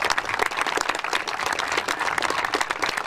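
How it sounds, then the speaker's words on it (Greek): A crowd of children and spectators applauds loudly at a Final-4 sports event, a dense, continuous burst of clapping sustained throughout without pause. "θα χειροκροτήσουμε δυνατά τη Μύκονο που δεν ήρθε εδώ μαζί μας"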